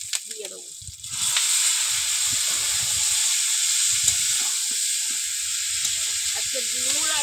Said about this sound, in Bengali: এবার সেদ্ধ করে রাখা ডুমুর আর আলু দিয়ে দেবো।